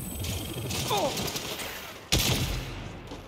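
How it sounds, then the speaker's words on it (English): A marshals' gun fires in the Saints Row western frontier level, giving a sharp loud blast near the middle of the clip over steady game background noise, with earlier softer gunfire. "It's the gun that the marshals use."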